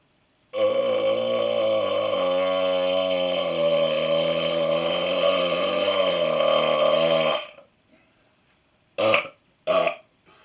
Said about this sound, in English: Got some Dr. Pepper assisting me with these burps.